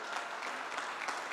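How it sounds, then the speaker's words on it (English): Crowd applause celebrating the proclamation of Indigenous Peoples Day, a steady, dense wash of clapping at an even level throughout without a break. "now we all clap and celebrate"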